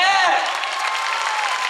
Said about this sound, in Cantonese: 我想呢度1至9樓所有人俾啲掌聲